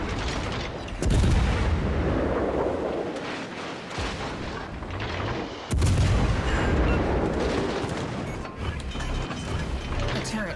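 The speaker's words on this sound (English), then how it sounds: "Oh no, Rhode Island secondary was shooting." In World of Warships: Legends, the secondary guns of the Rhode Island fire in heavy booming salvos. Two loud blasts hit about five seconds apart, each followed by a rolling rumble and mechanical clatter.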